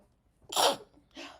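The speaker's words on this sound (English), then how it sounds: "I think that was my last sneeze." A single sharp sneeze from a person with allergies bursts out up close, followed a moment later by a shorter, softer exhale.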